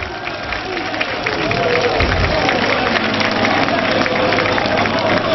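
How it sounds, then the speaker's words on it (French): A crowd at a FROCAD meeting in Pointe-Noire applauds and cheers. The noise is loud, dense and continuous, clapping blended with crowd noise throughout and voices mixed in. "Applaudissez, applaudissez."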